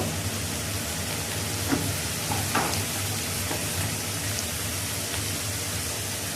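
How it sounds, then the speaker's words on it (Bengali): A fish head coated with salt, turmeric, coriander and cumin sizzles steadily in hot oil, a soft, even frying hiss with faint clinks and no talk. "দিয়ে এখন তেলের উপরে ভেজে নেব"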